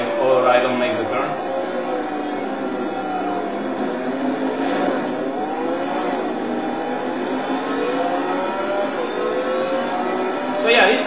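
A race car engine revs and shifts nonstop in the racing video game Total Immersion Racing, its pitch rising and falling through gear changes, loud and close from start to finish.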